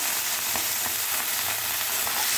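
Soaked cooked rice fries and sizzles in a hot pan as it gets stirred, a steady loud crackle with soft scraping strokes at regular intervals and no voices.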